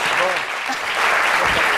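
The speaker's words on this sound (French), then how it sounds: "On applaudit très fort Cassandra." A television studio audience applauds loudly and steadily as a guest named Cassandra joins the set, with a host's voice carrying over the clapping.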